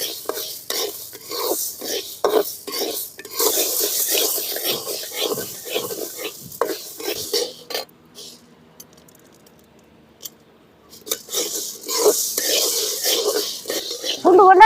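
Black urad dal dry-roasts in a pan while being stirred steadily, making a close rattling, scraping sound with rhythmic strokes. A quiet gap comes midway before the stirring resumes, and a soft voice is heard at times.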